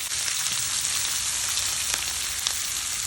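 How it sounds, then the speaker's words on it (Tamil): Ground garlic and tomato paste sautéing in a pan for a curry, giving a loud, dense, continuous frying sizzle close up with faint crackles throughout and no voices. "அரைச்ச பூண்டும் தக்காளியும் போட்டு வதக்கி கொள்ளும்"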